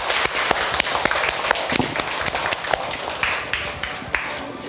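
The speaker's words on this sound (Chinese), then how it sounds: "我们以热烈的掌声，我们恭请黄老师出来" Scattered audience applause welcoming a teacher onto the stage at a temple gathering, with sharp, uneven hand claps that are loud and close, rising and thinning over a few seconds.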